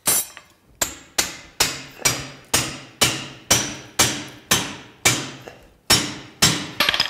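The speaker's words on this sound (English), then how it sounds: "Throw four rings on and then close it up and then use this long tapered punch." A hammer strikes a long tapered steel punch to close chainmail rings, sounding as about ten loud, ringing metallic blows at a steady pace, each decaying before the next, with no talking.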